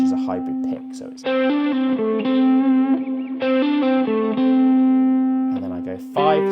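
Distorted electric guitar plays a legato lick with hammer-ons, pull-offs and hybrid picking: quick slurred notes over a ringing held pitch, loud and close, with short gaps between phrases.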